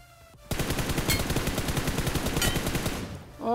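Sustained machine-gun fire in the battle royale game BGMI coming from the right, a fast steady rattle of shots after a brief quiet start, ending with a short bright electronic chime.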